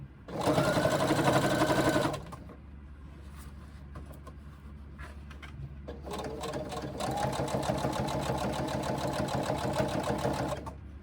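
A sewing machine runs top stitching along a bag seam in marine vinyl. There is a loud two-second burst, a pause with low hum, then a longer steady run of stitching with a fast, even needle rhythm.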